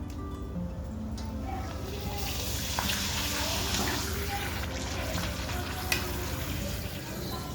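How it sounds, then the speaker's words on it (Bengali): Papad frying in hot oil, a steady dense sizzle with light stirring that holds close and even for about seven seconds, with a faint voice in the background. "এই যে আমি পাঁপড়টা ভেজে নিচ্ছি"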